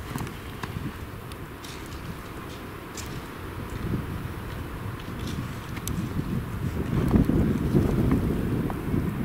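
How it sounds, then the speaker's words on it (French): Strong, gusting wind on a snowy site in Scotland buffets the microphone, a continuous low roar that swells louder toward the end, with no voices. "il ne s'agit encore une fois que d'effets sonores à cause du vent."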